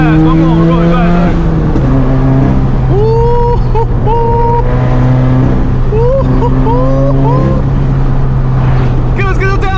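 A built 400-horsepower Subaru engine drones steadily at speed, with tonal whines and turbo-like swoops rising and falling over the continuous road and engine noise, heard from inside the car.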